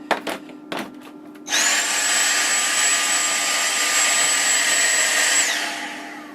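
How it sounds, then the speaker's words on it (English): Vacuum cleaner hoovering up spilled debris from a fire-damaged Kicker KX1500.1 amplifier indoors: a couple of soft knocks, then a loud, steady high-pitched whine with broadband roar that holds for several seconds before spinning down. "I'm going to hoover this actually, just so it doesn't spill all on the floor and ruin my carpet in here."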